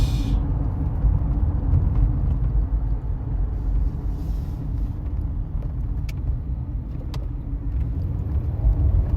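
A car is driving on the road, heard from inside as a steady low engine and road rumble that continues without a break, with no talking.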